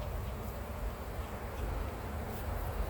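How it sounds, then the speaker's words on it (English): Honey bees buzz around hive frames during honey pulling, a dense continuous hum close by with no talk. "Let me get all these bees off of here"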